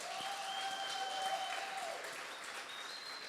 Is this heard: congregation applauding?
yes